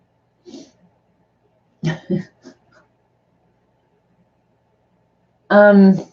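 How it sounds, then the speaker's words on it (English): A few short explosive bursts, like sneezes or coughs, break a quiet room, ending with a louder voiced outburst close to the microphone. "One big sneeze."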